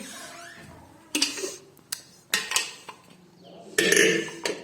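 Pots, pans and a pressure cooker handled in a home kitchen, with several sharp metallic clanks and clatters spaced irregularly between quieter handling noise, close and fairly loud.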